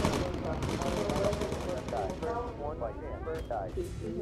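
Bomber defensive guns in the game Bomber Crew fire in sustained rapid bursts, a dense continuous clatter of gunfire with a voice speaking over parts of it.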